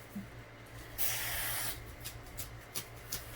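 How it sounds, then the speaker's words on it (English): A single short burst of spray hisses out, followed by a few faint flicking taps against a quiet background. "Spray it on there."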